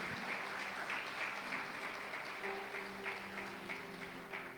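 A church congregation applauding God during an evening service, steady sustained clapping from many hands that fills the room at a fairly distant, even level throughout.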